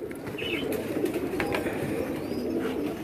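Striped pigeons cooing nearby, a continuous low throaty burble with a few light chirps over it, no voices present.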